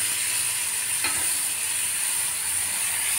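Ridge gourd, homegrown, fries in a pan for a tomato chutney, a steady dense sizzle and hiss with a brief scrape of stirring partway through, close and continuous.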